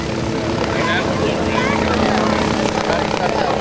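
A Hughes 369 light helicopter with a tail rotor flies at a rotorcraft festival demonstration, giving a steady, loud rotor and engine drone that holds constant throughout with no one talking.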